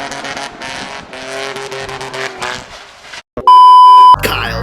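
Revving car engine and squealing tires in a car chase where the car skids off a cliff, a strained whining roar that cuts out and gives way to a loud, steady electronic beep and a final burst of noise.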